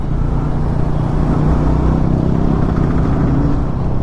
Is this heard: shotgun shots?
no